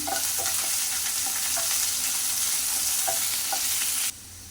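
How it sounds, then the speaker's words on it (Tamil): Chopped small onions fry in a pan with a steady, close hiss, broken by a few light stirring clinks, until the sizzle cuts off sharply near the end. "வெங்காயம் நல்லா ஃப்ரை ஆகட்டும்."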